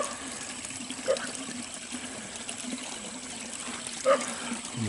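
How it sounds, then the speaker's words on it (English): Water trickles thinly out of a pipe at night, a soft steady dribble with two brief louder splashes, faint and alone. "There's sure not much water coming out of it though."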